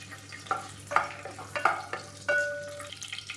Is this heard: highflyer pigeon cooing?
no